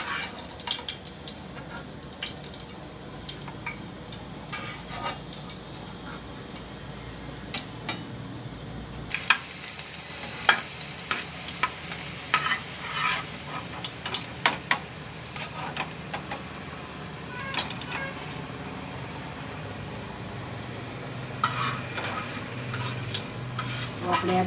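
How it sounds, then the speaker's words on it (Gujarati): Bitter gourd (karela) fritters fry in oil with a continuous soft sizzle, broken by scattered light ticks and clinks of utensils, with the frying growing louder and brighter partway through. "તો બધાય આ રીતે આપણે ફ્રાય કરી લેવું."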